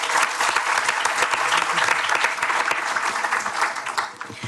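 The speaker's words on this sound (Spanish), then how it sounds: "¿Le damos un aplauso para comenzar bien?" Audience applause welcoming a speaker at a science debate on GMOs, dense sustained clapping from a crowd throughout, close and loud, tapering slightly at the end.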